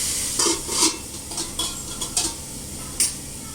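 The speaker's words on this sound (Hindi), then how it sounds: "अभी मैंने इसको तेल आग पे रखा हुआ है।" Pumpkin cooks in oil on a stovetop, hissing steadily under several sharp clinks and scrapes of a spoon against the pan.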